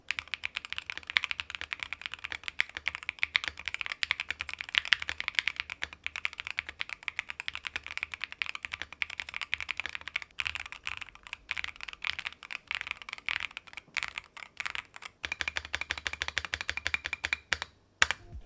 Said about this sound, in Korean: 먼저 스위치를 교체하기 전에 여기 들어있던 기본 스위치로 타건을 해보도록 하겠습니다